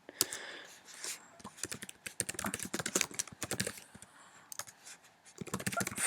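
Keys clatter on a computer keyboard in quick, uneven bursts with short pauses while code is typed, close up and fairly quiet.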